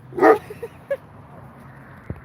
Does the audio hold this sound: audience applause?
no